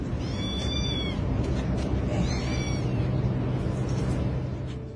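A small kitten gives several thin, high-pitched meows, some near and some farther off. They sit over a constant heavy background rumble, and no one speaks.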